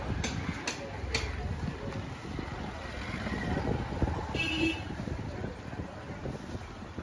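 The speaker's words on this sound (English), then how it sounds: "the noise of rickshaws and traffic pulling me out of that hidden world" Rickshaws and general traffic on a busy main road, a continuous rumbling, clattering street din with passing engines and a few faint horn-like tones, steady and moderately loud throughout.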